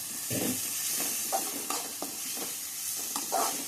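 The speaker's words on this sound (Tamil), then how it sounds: "வெங்காயம் கருவேப்பிலையும் நல்லா வதங்கணும்." Onions and curry leaves sautéing in a hot pan give a steady, close sizzle, with soft scrapes and stirring knocks at irregular intervals.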